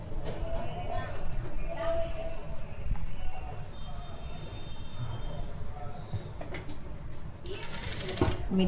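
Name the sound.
sewing machine stitching a half collar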